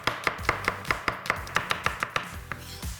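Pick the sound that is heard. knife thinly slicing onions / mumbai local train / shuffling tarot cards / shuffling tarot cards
knife thinly slicing onions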